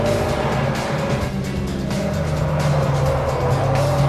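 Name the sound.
Mitsubishi Lancer Evolution engine accelerating out of a corner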